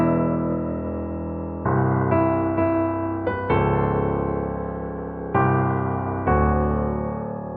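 An orchestral excerpt of the original Avengers movie theme plays clean and alone, with sustained brass-like chords struck in bold, spaced hits that ring out and decay between each accent.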